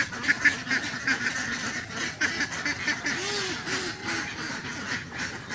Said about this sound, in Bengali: হাঁস ডাকছে কত সুন্দর করে,